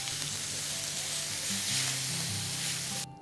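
Oyster mushrooms with lemon thyme frying in a pan, a loud, dense sizzle held close for the whole stretch, with a faint hum underneath, before it cuts off abruptly at the end.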